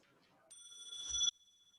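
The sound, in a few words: debate competition bell being tested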